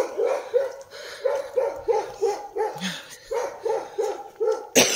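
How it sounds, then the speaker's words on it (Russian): Yard guard dogs bark repeatedly in a quick, steady rhythm, a little distant, with one lower bark mixed in and a sharp knock at the end. "Сумасшедшие собаки. Это дворовые домашние."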